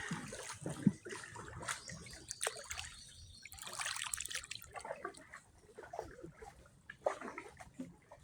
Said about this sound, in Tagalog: Ito ang ilog na mahaba.